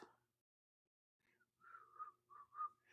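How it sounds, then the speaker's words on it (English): Soft, breathy whistled notes come in short, uneven bursts after a brief pause, faint and close, like someone struggling to hold a tune. "Why I can't whistle?"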